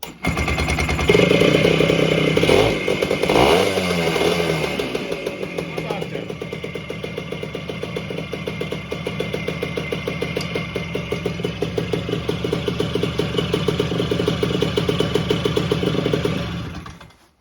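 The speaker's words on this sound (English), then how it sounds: "Pull the choke out. And let's just hit the starter." Vintage 1970s Yamaha AT3 motorcycle with the choke pulled out: the starter cranks, the engine catches loudly and close by, then settles into a fast, steady, popping idle that runs on for over fifteen seconds.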